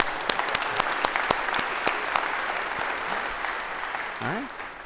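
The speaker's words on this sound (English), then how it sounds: "Maybe a round of applause, because this is always awkward." A lecture-hall audience at a computer science class breaks into applause, sharp individual claps up front over a sustained clapping wash that gradually thins, with a voice speaking near the end.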